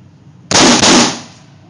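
Rapid gunshots from a semi-automatic firearm fired with fast trigger pulls, two loud sharp cracks in quick succession, close by, followed by a decaying echo and no talk.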